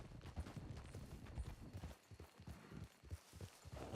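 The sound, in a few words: horse hooves clip-clopping in a ranch roleplay video game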